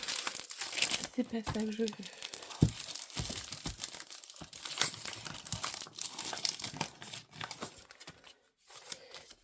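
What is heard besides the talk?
cutting out paper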